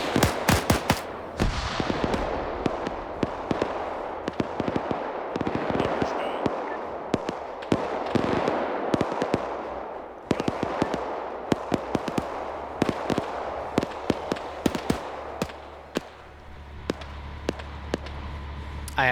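Repeated sharp blasts and gunfire-like bangs from a WW2 video game, including two grenade explosions among a dense, continuous stream of loud irregular pops and booms.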